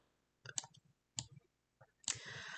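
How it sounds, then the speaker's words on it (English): A computer mouse clicked in Affinity Designer, with several small sharp clicks in brief clusters separated by near silence, quiet and close. "So when I double click on one"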